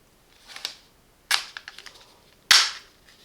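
Silvercrest SZP 25 D4 citrus juicer, its lid pressed shut to lock: three sharp plastic clicks, close and distinct, with a quieter one early and two louder snaps later, no voices.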